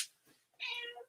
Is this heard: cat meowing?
yes